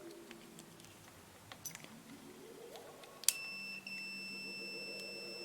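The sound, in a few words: multimeter continuity test beeping on an on-off switch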